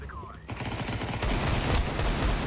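Rapid gunfire from Counter-Strike 2, a dense automatic burst that grows louder and fuller over about two seconds, loud and close, after a brief quieter moment.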